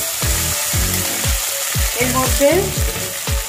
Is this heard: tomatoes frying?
yes